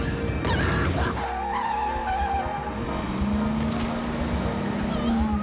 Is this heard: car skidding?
yes